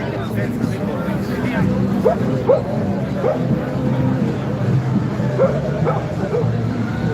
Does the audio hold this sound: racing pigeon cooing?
no